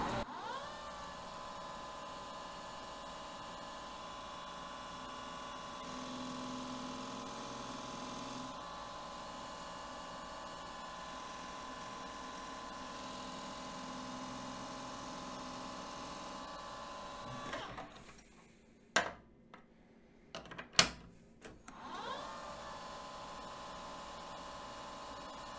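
A lathe turns a timing belt gear with a steady, droning machine whine that holds for most of the stretch. It then drops away into a few sharp clanks and knocks before the hum resumes.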